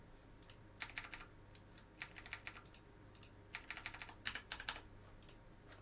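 Soft, quiet clatter of typing on a computer keyboard, coming in quick irregular bursts of keystrokes separated by short pauses.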